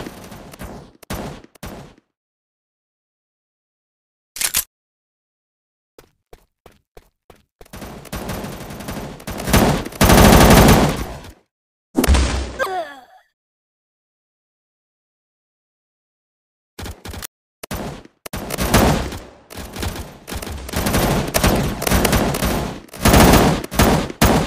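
Gunfire in the shooting video game MaskGuns, loud bursts of rapid automatic fire and single shots separated by silent gaps, with occasional metallic reload-like clicks and an in-game announcer voice.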